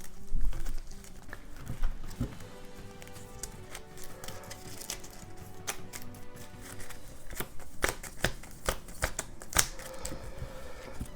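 Playing cards for a Marvel Legendary deck-building game being shuffled and handled on a table, a close run of soft riffling, flicks and taps with occasional louder snaps.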